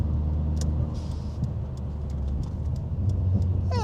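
A Dodge Neon SRT-4 engine hums steadily from inside the cabin while being driven with heel-toe technique, a moderately loud, close drone with slight shifts in pitch as revs change.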